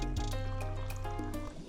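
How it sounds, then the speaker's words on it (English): About two cups of water pour steadily into a beef birria adobo mix with a soft trickling, filling sound, close and fairly quiet. "I'm going to add in about 2 cups of water"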